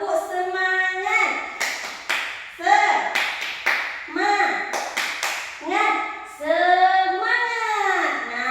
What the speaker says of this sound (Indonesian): sebelum belajar kita tepuk semangat dahulu. Tepuk semangat.